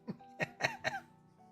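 Several short, harsh coughs and throat-clearing bursts, four close together over about a second, fairly quiet, with a faint steady hum behind them.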